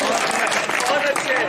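A mushaira audience at an all-India Urdu poetry gathering breaks into dense, sustained applause, a steady wash of many hands clapping at once, with voices carrying over it throughout.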